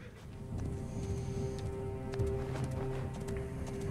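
Horse hooves clip-clop in the Assassin's Creed Origins video game, a steady trotting rhythm at moderate loudness over a constant tonal hum and ambient game noise.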